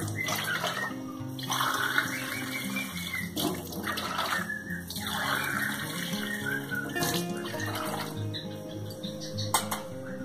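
Water runs steadily from a tap into a cooking pot, filling it with six cups for risotto, a continuous close splashing stream with faint kitchen clatter and no talk.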